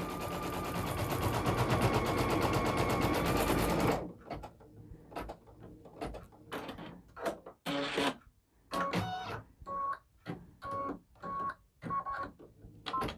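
A single needle embroidery machine stitches a design onto a child's sweatshirt. A continuous mechanical whir runs for a few seconds, then gives way to rapid staccato bursts of needle strikes separated by short pauses, close and clear.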